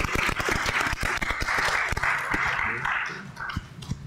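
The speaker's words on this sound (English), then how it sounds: "let's give everyone a big round of applause" A conference audience at a USAID leadership panel gives a round of applause, steady and fairly close clapping filling the whole stretch, with some voices mixed in.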